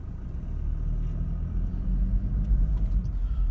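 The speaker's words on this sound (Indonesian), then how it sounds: "untuk mesin diesel di All New Fortuner ini suaranya cukup kasar ya, terutama mesin" A 2016–2017 Toyota All New Fortuner diesel engine rumbles steadily from inside the moving SUV, a low, rough drone that swells slightly as it drives on, with no talking.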